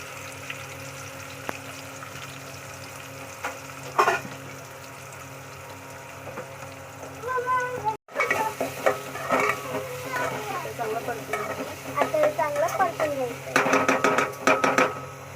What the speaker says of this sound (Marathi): कांदा आता छान परतून घेतलेला आहे